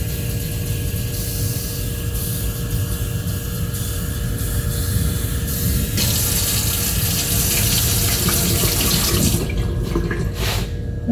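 Tap water pours steadily and loudly into a measuring cup while dill pickles are being canned, the rushing tone shifting partway through before the flow breaks up at the end.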